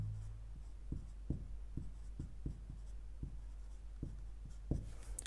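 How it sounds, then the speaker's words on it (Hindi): Pen writing on paper while working a class-10 ratio and proportion math solution, a quiet series of short scratchy strokes in an irregular rhythm, close up with a low steady hum behind and no talk. "इसको थोड़ा मिटा के मैं नीचे लिख देता हूँ"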